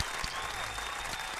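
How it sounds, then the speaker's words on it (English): Short burst of audience applause in a radio interview studio, moderate and steady clapping lasting just over a second. "Clap it up for Mike."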